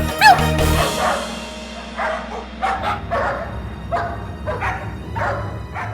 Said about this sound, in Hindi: गली के कुत्तों की फौज अब तुम्हें पूरी गली दौड़ाएगी